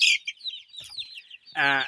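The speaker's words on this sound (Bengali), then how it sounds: "দেখেন আমি এখানে একটা মুরগি ধরেছি" Twenty-six-day-old tiger chicken chicks give high, thin chirps and peeps, close and fairly loud, with a harsher burst of calling near the end.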